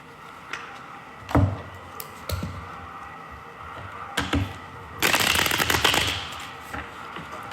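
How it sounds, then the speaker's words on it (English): Sharp bursts of tarot card riffling, a few brief snaps early on, then a longer dense flurry of shuffling near the end, close and fairly loud. "Those fancy shuffling skills"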